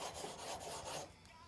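A steel chisel tip is touched up on a flat sharpening stone. The quiet rasping, rubbing strokes are close but faint and last only a moment.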